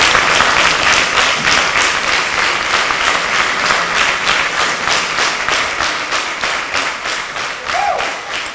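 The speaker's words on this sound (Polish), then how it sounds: "wielkie brawa" Audience applause at a concert performance, steady dense clapping filling the whole stretch with faint rhythmic unison beats, loud and close with no talk over it.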